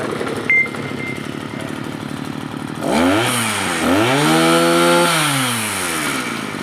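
A small two-stroke engine on a used Japanese Kawasaki TH34 brush cutter idles, then revs up sharply twice, its pitch rising and falling, before settling into a steady high run.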